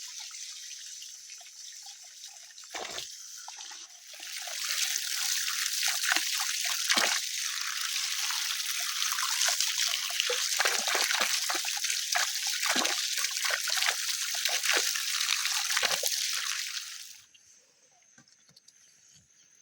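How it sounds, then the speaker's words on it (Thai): Water pours and trickles while vegetables are washed outdoors in the early morning, a steady splashing stream that rises, runs for several seconds, then tapers to quiet drips. "เอาไปล้างผักก่อน"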